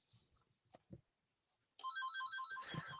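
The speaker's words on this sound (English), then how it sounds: "I think that's my phone." A mobile phone ringtone sounds suddenly after a short quiet stretch, a clear repeating electronic melody of rapid beeping notes that carries on to the end, fairly close.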